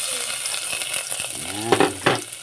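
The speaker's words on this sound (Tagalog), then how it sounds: "Init ng ating mantika guys. Ilagay na natin ang bawang at saka sibuyas." Garlic and onion hit hot oil in a pan for squid adobo, giving a steady close sizzle that swells into a couple of louder crackling bursts near the end.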